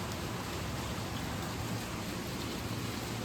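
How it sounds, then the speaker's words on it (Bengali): Heavy rain pours down in a dense, unbroken roar, loud and steady throughout with no voices. "জোরে বৃষ্টিটা পড়ছে।"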